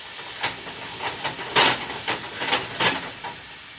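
Wine poured into a hot pan with flour sizzles and hisses in several sharp, loud bursts, close up and uneven, with no talk.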